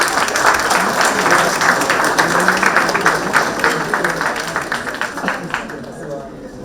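Steady applause from a conference plenary audience rises as a keynote speaker is honoured. Dense, continuous clapping fills the room at even loudness, then thins and fades in the last second.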